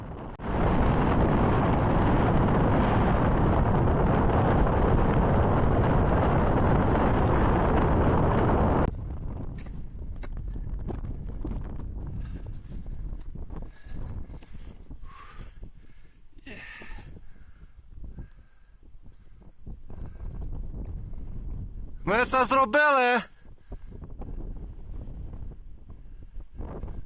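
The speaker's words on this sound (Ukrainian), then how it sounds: "Вітер, буря, сніг." Strong mountain wind in a winter snowstorm roars and buffets the microphone for several seconds, then eases to a lighter gusting rush with faint footsteps and a brief voice.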